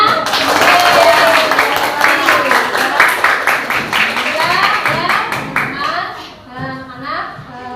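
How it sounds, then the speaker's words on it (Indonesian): A classroom of students claps together, bright rhythmic hand claps that are loud and close, overlapping with children's chatter and voices as the clapping thins out near the end. "Tepuk tangan semuanya."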